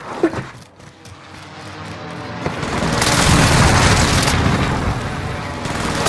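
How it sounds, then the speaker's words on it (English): Precision airstrike explosions in a Call of Duty style shooter game, starting with a sharp pop and building into a loud, sustained rumbling roar of blasts that stays heavy to the end. "Enemy precision airstrike."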